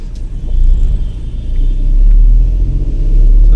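A car climbing the Kolli Hills hairpin road on a rainy trip, its low engine rumble steady and close with a heavier swell partway through, no voices.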